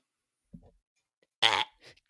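A boy lets out a short, loud, rough belch in the 1995 soccer film The Big Green, preceded by a faint low grunt and followed by a softer trailing sound, with no talking.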